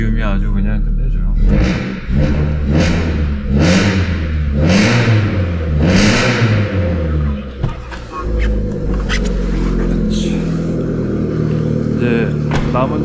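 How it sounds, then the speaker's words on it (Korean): A 1998 Hyundai Avante (All New Avante) engine revving repeatedly through its exhaust, loud rhythmic rises and falls in pitch close up, followed by a steadier idle-like drone. "배기음이 아주 그냥 끝내줘요."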